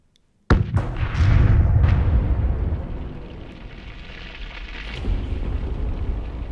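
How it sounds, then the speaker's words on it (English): A sudden loud blast as a missile base is destroyed in the strategy game Master of Orion, followed by a rumbling, crackling roar that fades, then a second, softer burst of explosion noise near the end. "We destroyed a missile base"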